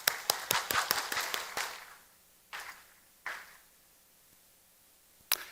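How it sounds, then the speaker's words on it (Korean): At a Christian gathering, a small audience claps in encouragement during a speech: a quick flurry of sharp, close hand claps that fades into a few isolated, scattered claps separated by quiet. "우리 박수로 한번 격려합시다."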